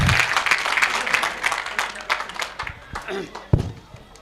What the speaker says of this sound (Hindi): जोरदार तालियां चाहूंगा आप सबकी